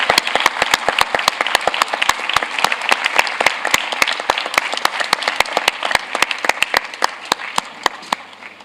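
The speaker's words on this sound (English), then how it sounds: "I really would like the delegate to give a last round of applause to all the site managers who are looking after World Heritage sites" Delegates at the World Heritage Committee give a round of applause, loud dense clapping from a large room sustained throughout with sharp individual claps standing out near the microphone.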